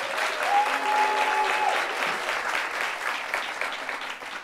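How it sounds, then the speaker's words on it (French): Studio audience applause on a French talk show, a loud, dense burst of clapping that stays strong and then eases slightly toward the end, with a faint tonal sound briefly audible early on. "On peut l'applaudir."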